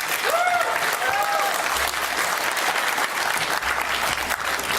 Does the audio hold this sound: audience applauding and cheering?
yes